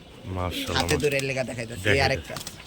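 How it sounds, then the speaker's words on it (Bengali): Pigeons, including female birds offered for sale, coo in low throaty phrases close by. Someone talks over and between the calls. "মাদি কবুতর হ্যাঁ।"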